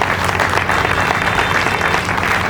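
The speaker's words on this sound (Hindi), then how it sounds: "ये ताली किस बात पर है?" Dense, loud applause from an audience at a religious discourse on Mahavira, continuous clapping filling the hall without pause for the whole stretch.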